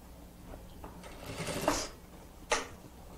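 Sewing machine running a short zigzag seam on a fabric plate and cutlery holder, faint mechanical whir followed by a couple of soft clicks.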